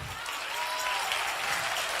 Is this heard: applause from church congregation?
yes